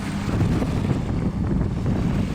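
Strong wind buffets the microphone on an offshore oil rig, a steady loud roar with no voices.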